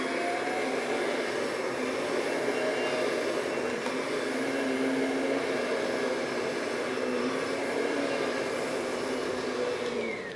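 A vacuum cleaner runs continuously over bedding, a loud steady whine and roar close by with no break.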